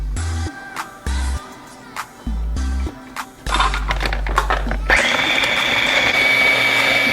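A kitchen blender minces onion, garlic and ginger for kimchi paste, running in loud short bursts with pauses between them, then a longer continuous whir that climbs higher and grinds on steadily to the end.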